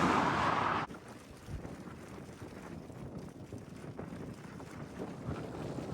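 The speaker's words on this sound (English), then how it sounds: "I'm fighting this wind right now" Strong gusty wind buffeting the microphone during a bicycle ride on an open road, a loud roaring burst at first, then a steady lower rushing that rises and falls, close and alone.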